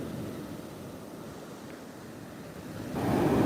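Ocean waves wash onto a beach in a continuous broad roar with wind buffeting the microphone, swelling louder near the end as a larger wave breaks close by.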